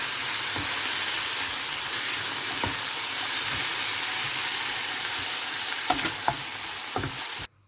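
Batbout filling seasoned with pepper fries in a pan with a steady, dense sizzle, broken by a few sharp clicks and scrapes of stirring before it cuts off abruptly.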